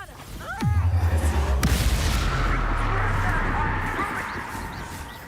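Bombarda explosion spell in the game Hogwarts Legacy goes off with a sharp, loud boom followed by a long rumbling decay, a brief shouted voice just before it.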